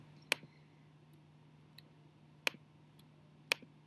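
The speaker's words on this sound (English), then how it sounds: "I'm just doing this by holding down Shift and clicking." Three crisp computer mouse clicks spaced over a few seconds, with fainter ticks between, made while holding down Shift during keyframe editing; quiet room hum beneath, no talk.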